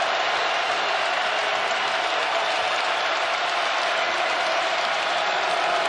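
A basketball arena crowd roars and claps in a steady, loud wash of noise that holds at one level from start to finish.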